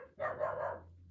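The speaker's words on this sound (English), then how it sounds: "I have no idea what she's barking about." A female dog gives a single muffled bark at a distance, a short, faint burst over a low background hum.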